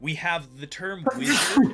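A single sharp sneeze bursts out near the end of a stretch of close indoor conversation, loud and breathy against the talking voices.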